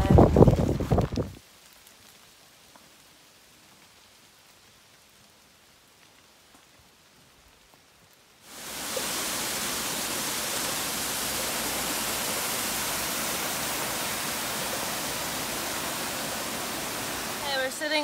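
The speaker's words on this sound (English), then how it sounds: "it is still raining outside" Steady rain pours on a rocky summit of Bear Mountain, a loud, even hiss that fills the second half after a quieter stretch, with brief voices at the very start.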